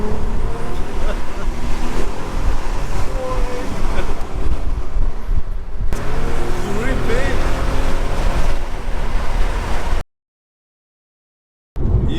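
Audi A3 with a 3.2 V6 engine accelerating hard through the gears from first, its roar loud and continuous under heavy wind noise, with brief occupant talk and a short gap of silence near the end.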